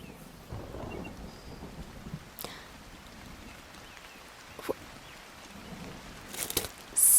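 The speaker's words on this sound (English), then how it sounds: "I didn't know it was supposed to rain." Rain falls on an outdoor picnic with a low rumble of thunder, soft and diffuse, building near the end into a louder burst of rain.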